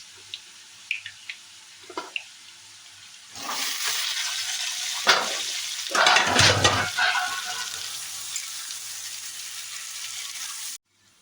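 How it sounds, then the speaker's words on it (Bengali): Chopped capsicum and onion tipped into oil with fried chopped garlic for chilli chicken and fried rice, a few faint clicks, then a loud sudden sizzle that swells and rushes steadily before cutting off abruptly. "রসুন কুচিটা একটু ভাজা হয়ে গেলে এবারে এর মধ্যে দিয়ে দেবো কেটে রাখা ক্যাপসিকাম আর পেঁয়াজ"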